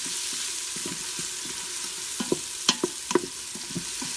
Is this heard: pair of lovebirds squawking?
no